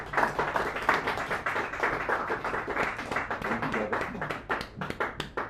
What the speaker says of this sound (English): Let's hear applause for him again.